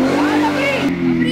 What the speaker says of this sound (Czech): Takže tohle je motor